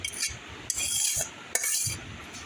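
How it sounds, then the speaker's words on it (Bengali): Raw mango pickle being stirred together with mustard paste and mustard oil using a spatula, giving soft repeated scraping and stirring strokes against the bowl in close, steady bursts. "এবার আমি সবগুলা মিশিয়ে নিচ্ছি আলতো হাতে আমি হাত দিয়ে করছি না সবটাই একটি হুলটির সাহায্যে আমি করে নিচ্ছি"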